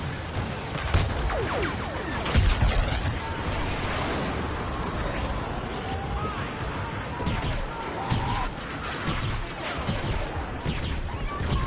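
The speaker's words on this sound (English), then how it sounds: "Uh-oh, airstrike." Rolling booms and crashing blasts from an airstrike in the Star Wars Battlefront video game, a dense barrage of explosions with heavier hits near the start, continuous chaotic battle noise throughout.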